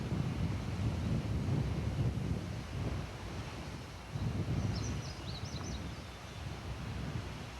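A fairly large river flowing into the Mississippi on a rural ranch homestead, heard as a steady broadband rush of moving water with gusty wind buffeting the microphone and faint high chirps of birds in the distance.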